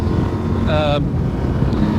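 A KTM 890 SMT 2023 motorcycle rides bumpy small country roads, its engine a steady loud drone mixed with wind rush, with a brief rising whine in the middle.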